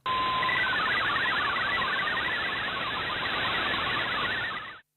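Text sent over MFSK64 radiogram comes through as a dense, chattering burst of shifting digital tones over loud static, steady for nearly five seconds before ending sharply.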